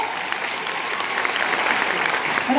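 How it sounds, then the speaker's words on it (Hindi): A crowd at a formal Amar Ujala award ceremony claps loudly and steadily, a dense wash of many hands that swells slightly toward the end, with no speech over it. "मेरा मन है एक बार जोरदार तालियां अमर उजाला के इस प्रयास के लिए हो"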